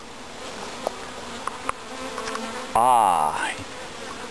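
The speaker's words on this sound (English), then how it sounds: "This is a swarm." A honey bee swarm buzzes in a dense, steady drone close at hand, with a short human exclamation and a few faint knocks over it.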